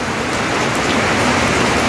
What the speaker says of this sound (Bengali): অনেক বৃষ্টি সারা দিন আজকে বৃষ্টি